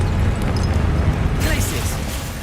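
Incendio fire spell cast in Hogwarts Legacy, a roaring whoosh over dense low rumbling game noise with a brighter burst partway through.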